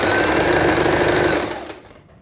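An overlock machine runs loud and close, stitching a rapid, buzzing seam around the elastic waistband of a teen's pajama, then winds down and stops.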